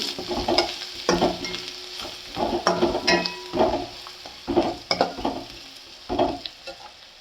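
Coriander powder stirred in a hot cooking pan gives a series of rhythmic scraping strokes with a light sizzle beneath, close and fairly loud.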